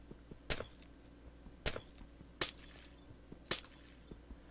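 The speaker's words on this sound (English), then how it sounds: "Okay, it's break the glass." Glass blocks in the Minecraft video game shatter four times in a row, each a sharp, bright crash followed by a short tinkling decay, spaced about a second apart, with no talk.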